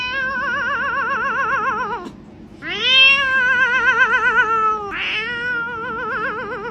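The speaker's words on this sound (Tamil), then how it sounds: "நீங்க சாதா பூனையை பார்த்துருப்பீங்க வைப்ரேஷன் பூனையை பார்த்துருக்கிறீங்களா" A cat gives several long, wavering meows, loud and close, with a short gap before a rising, quavering cry and a final trailing call, no talking over them.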